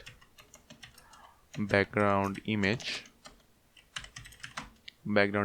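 Quick, light key clicks from a computer keyboard tap along at close range, scattered through the stretch and partly under a voice speaking.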